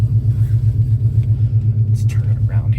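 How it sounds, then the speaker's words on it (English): Low, steady engine rumble from a new car creeping forward, a continuous hum close by with faint talk over it. "if I pull the car forward"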